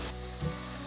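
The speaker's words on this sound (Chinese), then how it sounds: "把红喜菇、雪白菇和红甜椒放进来炒香" Red shimeji and white mushrooms with red bell pepper being stir-fried in a little oil in a wok, giving a brief, fairly quiet sizzle with a soft stirring scrape near the middle.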